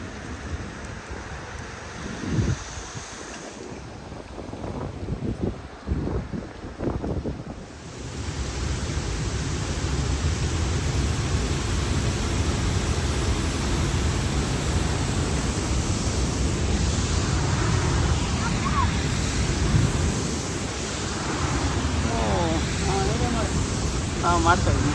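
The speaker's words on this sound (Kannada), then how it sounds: "ನೀರು ಜಾಸ್ತಿ ಬರೋದು, ನೀರು ಜೋರ ಬರೋದು" Water rushes loudly and continuously at the Hogenakkal waterfalls, a broad roar that takes over fully after the opening seconds, with wind buffeting the microphone and voices talking faintly beneath it.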